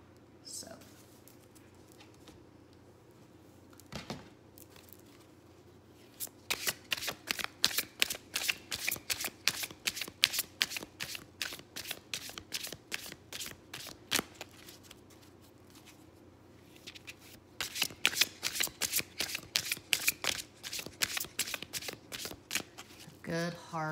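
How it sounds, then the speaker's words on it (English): Tarot cards shuffled hard in bursts of rapid, crisp riffling and slapping, close and fairly loud, with a brief pause mid-way before another vigorous round. "Good hard shuffle."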